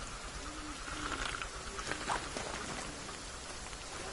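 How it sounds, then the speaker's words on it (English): Rain falls steadily in the survival game The Forest, a soft continuous patter on surfaces with faint scattered drips and no voices. "Should keep raining for a good amount of time."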